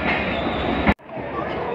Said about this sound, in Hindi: नाइना पिलामाकबाल एक्सप्रेस लाहौर स्टेशन पर पहुंच रही है